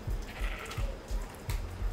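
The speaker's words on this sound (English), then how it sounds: "There's like 5 sheeps down here." Sheep bleating in the Destiny 2 highlands, several animals calling in short repeated bleats over a low game soundscape, fairly quiet and mixed with ambient noise.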